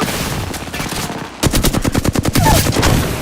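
Rapid automatic gunfire from a first-person shooter match in Apex Legends, with loud bursts of closely spaced shots that break off briefly and then return in quick rhythmic rounds.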